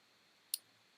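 A single crisp computer mouse click, close and isolated against a quiet background.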